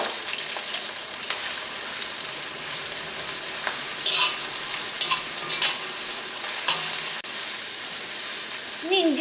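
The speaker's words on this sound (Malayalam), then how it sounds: "ഇനി ഇഞ്ചിയും വെളുത്തുള്ളിയും നമുക്ക് എണ്ണയിലിട്ടിട്ട് വഴറ്റിയെടുക്കാം." Ginger and garlic sauté in hot oil with dried red chillies and green chillies for a carrot pickle, a continuous close hiss and crackle with occasional stirring clicks and faint voices in the background.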